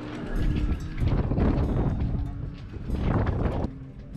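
Strong wind gusts around a Najad 340 sailboat in a harbor in Norway, buffeting the microphone in two heavy surges with rustling and creaking, no voices heard.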